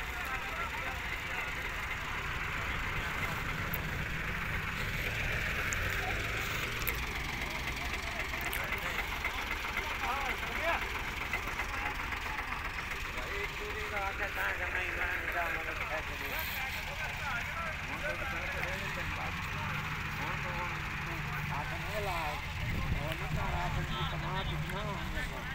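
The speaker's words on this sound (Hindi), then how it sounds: "ट्रैक्टर 385 पीछे धक्का लगा रहे हैं और तीन ट्रैक्टर आगे लगाए हुए हैं, फोर्ड 4400।" Ford 385 and Ford 4400 tractor engines labour together while pushing and pulling a load, a dense continuous droning rumble with speech running over it throughout.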